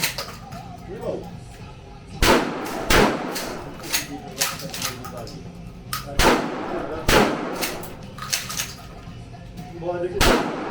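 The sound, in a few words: gunshots at a shooting range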